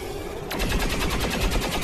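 Rapid cannon fire in XCOM 2, a dense burst of mechanical shots breaking in halfway through and rattling on steadily over low background hum, loud and close.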